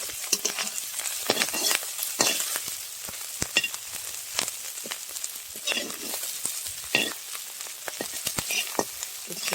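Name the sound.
frying shellfish (jhinuk) in a pan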